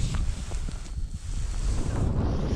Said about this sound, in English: That wind really started picking up.